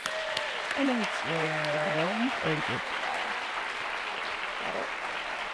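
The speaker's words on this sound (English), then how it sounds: "Please join me in a round of applause." Audience applause welcoming the president and chief executive at a foundation's annual meeting, a broad steady wash of clapping that carries under a nearby voice speaking through the first few seconds.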